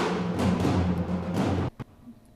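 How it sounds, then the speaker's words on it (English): Concert toms from a cinematic percussion library on a distant trailer mix, a series of booming roomy hits with long reverberant tails that cut off abruptly, followed by a couple of faint isolated strikes. "These are the concert toms"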